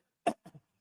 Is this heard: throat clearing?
yes